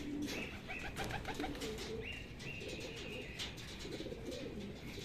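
Racing pigeons at a loft during a training release in Cabanatuan, Nueva Ecija coo softly and chirp over a faint, steady outdoor background.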